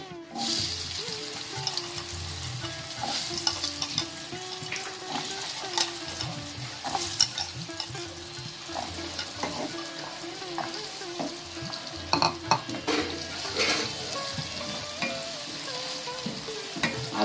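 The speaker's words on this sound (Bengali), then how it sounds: "তেল গরম হয়ে গেছে এবার আমি আলুটা ছাড়ছি" Steady sizzling of potatoes frying in hot mustard oil, with stirring scrapes and clatters throughout, fairly close and continuous.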